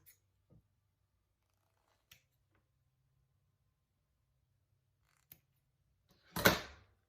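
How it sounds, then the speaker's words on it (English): Scissors snip the ends off paper for handmade thank-you cards, a few faint isolated clicks ending in one louder, close, crisp cut in an otherwise quiet room. "then just I'll trim off the ends"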